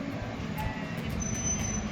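A tourist train running around the streets of Athens: a steady rolling rumble with faint wheel squeal, heard alone.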